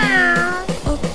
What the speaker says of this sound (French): Erwan, arrête de miauler, t'es pas un chat